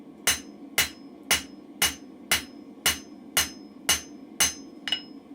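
A blacksmith forges a chisel with about ten evenly spaced hammer blows, each a sharp, ringing metallic strike, close and clear with a faint hum between them.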